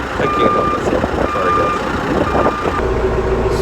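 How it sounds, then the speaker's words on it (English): A truck's reversing alarm beeps at a construction site for a barn build, three loud, evenly spaced tones over steady engine rumble and outdoor noise. "if he turned that around and go the other way, he wouldn't have that beeping alarm"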